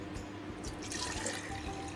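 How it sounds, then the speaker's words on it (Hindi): Hot water poured into a jug while making cold coffee, a steady close splashing pour running throughout with no talk. "एक जग में डालेंगे हम गर्म पानी"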